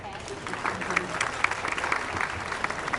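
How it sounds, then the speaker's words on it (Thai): Steady, dense clapping from a wedding audience at a Japanese wedding ceremony with a Thai-speaking host, filling the room evenly throughout with a voice talking over it. "สียงปรบมือได้ไหมคะ"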